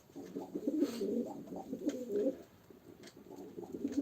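Pigeons at a live pigeon auction coo in soft, rolling phrases close by, repeating through the stretch over faint background noise.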